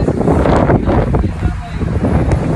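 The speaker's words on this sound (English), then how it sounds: "damn, it's windy out. I hope y'all can hear this" Heavy wind buffeting the microphone in loud, continuous low rumbling gusts, with a voice talking faintly underneath.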